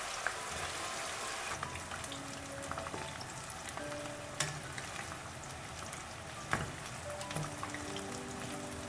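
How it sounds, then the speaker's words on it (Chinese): Eggplant pieces deep-fry in hot oil in a wok with a steady, dense crackling hiss, broken by occasional sharper pops and spits. "接着再将茄子同样倒入锅中，这里茄子炸的时间要稍微短一些"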